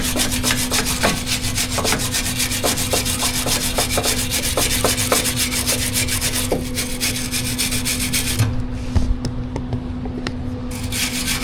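Continuous harsh scraping of a stiff wire brush rubbed rapidly back and forth over a metal weld, steady and close, pausing briefly near the end.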